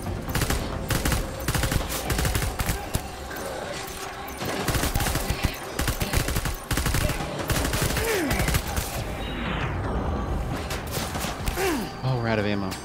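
Rapid bursts of machine gun fire in the video game Death Stranding rattle on loudly with short pauses between volleys, mixed with clanking mechanical sounds and some game noise.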